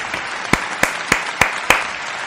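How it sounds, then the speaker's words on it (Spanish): On a Kings League talk show set, a short burst of applause for José Segovia: five sharp, evenly spaced claps ring out close and clear over a low murmur of background noise. "Un aplausito, José."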